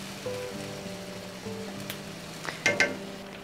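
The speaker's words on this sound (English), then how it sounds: "Alright, so we've got this boiling" Bourbon chicken sauce with honey boils in a pan, making a soft, steady bubbling sizzle with scattered light pops and a couple of sharper crackles near the end. No one speaks.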